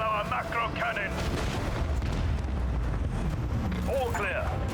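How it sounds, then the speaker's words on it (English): Macro cannons fire a barrage in Warhammer 40,000: Rogue Trader, making a sustained rolling roar of booming blasts with whining effects at the start and end, heard throughout and fairly loud. "the fury of our macro cannon"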